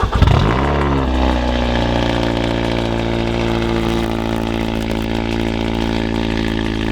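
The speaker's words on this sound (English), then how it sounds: "Quick cold start." A BMW M340i starts from cold with a short starter whir and a loud catch, then settles into a high, steady, throaty idle heard up close.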